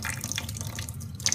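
Tap water runs steadily into a sink or tub to bathe a hedgehog, a continuous close splashing wash with small drips, no voices.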